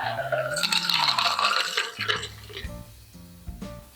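Rumaretto Sour cocktail poured from a shaker into an old-fashioned glass, a short gurgling liquid pour with a splash and clink of ice, close and fairly loud, with brief thuds near the end.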